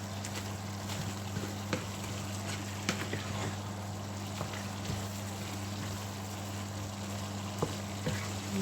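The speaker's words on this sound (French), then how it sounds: "C'est parti pour la cuisson de nos légumes. Allez, on mélange bien." Vegetables, including cabbage, sizzle steadily in a frying pan as they cook, with a continuous low hiss and a few soft scraping clicks of stirring over a steady hum.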